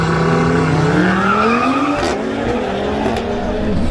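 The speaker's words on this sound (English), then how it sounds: "Now Juan David Galindo in his Audi RS3 faces off against Andres Mejia in his BMW M440i xDrive." Audi RS3 and BMW M440i xDrive drag racing at a Medellín event: loud revving engines rise in pitch through gear changes, with tire squeal and a roaring pass, no speech.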